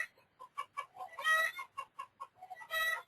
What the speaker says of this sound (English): Don't mind the chickens in the background.